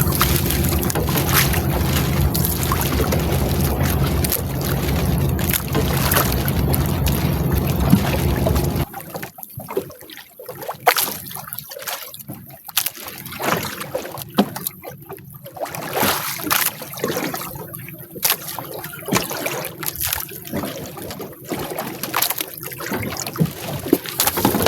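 At sea, a boat's engine drones steadily and loud for several seconds, then cuts off, leaving irregular bursts of wind buffeting the microphone and splashing water.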